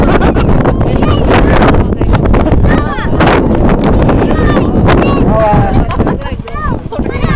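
Loud, steady wind buffeting the microphone with a constant low roar at Buhairat Bay, with shouting voices and chatter mixed in throughout.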